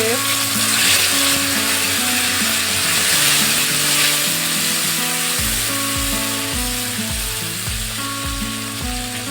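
Chopped tomato goes into hot oil tempered with bay leaf and cumin for a gravy, setting off a loud, steady sizzle and crackle with no talk.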